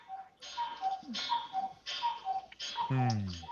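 A cuckoo clock ticks steadily in an even rhythm, moderately close, with a low cooing bird-like tone near the end.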